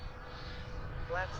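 Freewing F-4 Phantom RC jet flying: a steady whooshing ducted-fan whine with a rising whistle near the end, moderately loud, with a voice talking over it.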